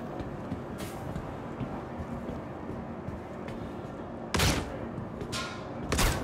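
Star Citizen combat: a steady rumbling ambience broken by a few sharp gunshot bursts, the loudest ones coming near the end.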